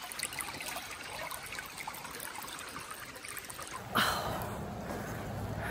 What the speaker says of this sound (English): We got to a spot that's got a creek.